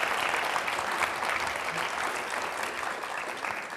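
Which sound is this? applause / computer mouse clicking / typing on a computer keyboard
applause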